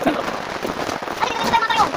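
Steady rain falls outdoors, a continuous close hiss with some spattering on surfaces, while faint voices murmur underneath throughout.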